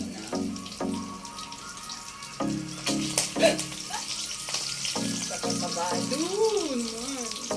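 Food fries in a pan with a steady, moderately close sizzle while a person talks over it and other voices rise and fall.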